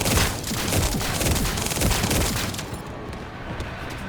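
Shotgun fire in The First Descendant video game, a dense cluster of heavy blasts and impacts over several seconds, loud and chaotic, fading into a quieter tail.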